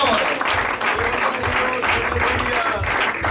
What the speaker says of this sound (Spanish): Dale fuerte un aplauso, por favor, al Señor